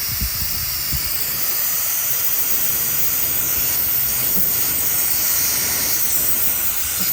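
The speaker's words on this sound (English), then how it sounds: "As you can tell, this fitting over here is leaking." Steady, continuous air hissing from a leaking fitting on a VEVOR CUT 50 hobby plasma cutter, a constant broadband rush held at even loudness for the whole stretch, with no talking.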